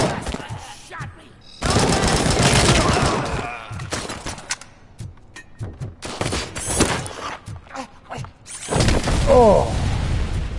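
Rapid gunfire from RoboCop: Rogue City, loud bursts and fusillades of shots mixed with mechanical clanks and booms, broken by short gaps and in-game voices.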